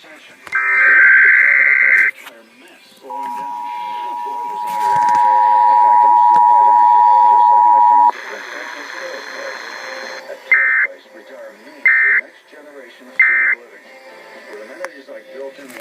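Emergency Alert System header tones broadcast on KDKA radio in Pittsburgh: a loud two-tone attention signal, a long steady tone, then three short data bursts, all clear and prominent with no talk.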